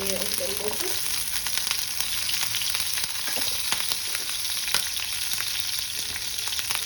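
Dried red chili, curry leaves and corn kernels fry in a mustard-seed tempering, giving a dense, steady sizzle with scattered pops and crackles, close and continuous for several seconds.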